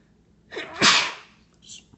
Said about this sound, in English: Sorry, I didn't mean to sneeze there